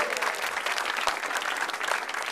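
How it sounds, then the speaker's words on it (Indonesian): Audience applause at a televised stand-up comedy show in Indonesia, a steady dense wash of clapping from a crowd that fills the moment without a break, close and moderately loud. "tepuk tangan dulu dong."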